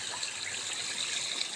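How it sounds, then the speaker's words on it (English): Water running and trickling through a pond in early spring, a steady close wash of flowing water, alone and unbroken. "where the water moves, it is simulating a natural spring runoff and stirring up the pond"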